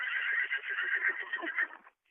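A horse that has been separated from its herd lets out one sustained, shaky whinny lasting nearly two seconds, fairly close and alone before it cuts to silence.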